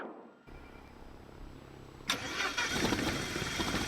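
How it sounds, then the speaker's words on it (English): A Diamond DA40-180 light aircraft's piston engine is cranked by its starter, a steady grinding churn for about two seconds before the engine fires and catches into a loud, continuous running roar close by. "we are going to go ahead and crank the engine until the engine begins to fire"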